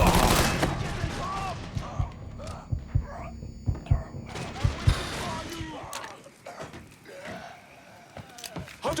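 Gunfire in Mafia III during a loud street fight: a rapid run of sharp repeated shots and thuds amid shouting voices, the firing tapering off toward the end.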